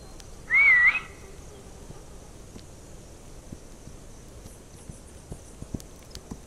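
A single short warbling whistle calling a horse near the start, followed by faint scattered hoof clicks and taps over a quiet background, in the video game This Land Is My Land.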